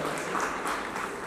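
An audience claps together in a brief, dense burst of applause, steady and moderately loud, with no one speaking over it.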